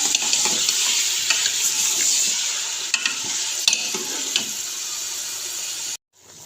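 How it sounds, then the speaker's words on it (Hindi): Beef for tikka karahi frying in ghee, a loud continuous sizzle with occasional spatula clicks and scrapes, cutting off abruptly near the end. "और गोश्त को हमने अच्छे से फ्राई करना है घी के अंदर"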